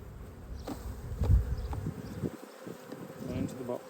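A swarm of honey bees moving onto a neighbour's roof, buzzing close and continuously with fluctuating intensity, mixed with handling noises and faint background voices.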